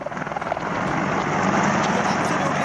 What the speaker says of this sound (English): Look at that Apache helicopter. As its rotors, it clears the runway and the taxiway.